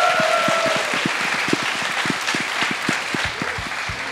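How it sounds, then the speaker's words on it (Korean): Dense applause from the audience at a 2020 LCK Spring promotion-relegation esports match between Jin Air and Hanwha Life, sustained loud clapping from a large crowd in an arena with sharper individual claps standing out. "여러분 다시 한번 큰 박수 보내주세요"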